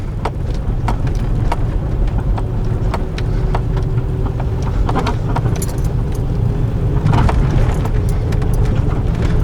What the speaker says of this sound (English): we'll just drive down the road here a little bit together